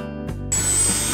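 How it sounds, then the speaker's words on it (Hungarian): A rotary power tool fitted with a drill bit carves deer antler into a pendant. A steady high whine starts abruptly halfway through and grinds on close and loud, with a faint buzz before it. "a nagyolás és mélyítés következett, természetesen ez már csak géppel és változatos fúrófejekkel"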